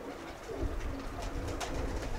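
Havades (Chavades) breed pigeons coo in soft, low, repeated calls over a steady outdoor background, moderately close, with no voices.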